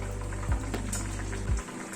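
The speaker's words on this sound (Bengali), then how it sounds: "মাছটা একটু ঝোলের মধ্যে 1-2 মিনিট ফুটে উঠুক।" Pabda fish curry simmers in a pot, giving a soft continuous bubbling and crackling hiss over a low steady hum, close by and fairly quiet, without any speech.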